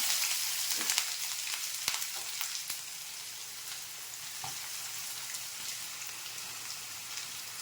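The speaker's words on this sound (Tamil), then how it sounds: "2 கடுகு உளுந்து பருப்புமே போட்டு இப்போ வெங்காயத்தை போடுறேன்." Onion dropped into hot oil with spluttering mustard seeds and urad dal, a bright crackling sizzle with sharp pops and a few stirring knocks early on, close and steady throughout, no speech.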